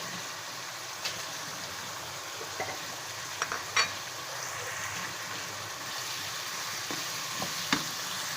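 Chicken and capsicum frying with spices in a handi, a soft, fairly quiet hiss of cooking oil that runs continuously, with a few light spoon taps and scrapes scattered through it.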